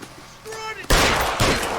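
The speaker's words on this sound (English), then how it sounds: "What's with all the firecrackers?" Gunfire in the L.A. Noire video game erupts as a loud, dense burst of rapid shots following a brief tonal sound, sustained and close.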